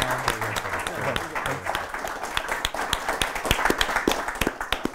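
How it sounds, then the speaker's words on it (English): An audience at the Valiant Summit 2017 event claps in a sustained round of applause, with individual claps sharp and distinct and a voice briefly heard among them. "let's have a big round of applause for Matt and for Rapture"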